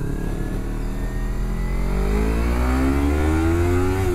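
An engine revs hard under acceleration, a loud, close, steady roar whose pitch climbs smoothly over a few seconds, with no voices.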